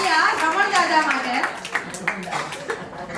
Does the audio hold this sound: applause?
yes